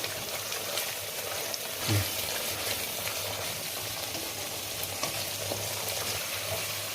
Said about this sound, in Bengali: এবারে গরম মশলা দিলাম গরম মশলাটা আমি সব সময় মশলা কষানোর সময় দিয়ে থাকি